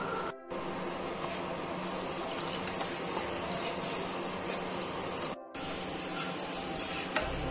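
Custard powder being stirred into liquid for a bread pudding, a steady close scraping and swishing that runs continuously with two brief gaps, with no talking.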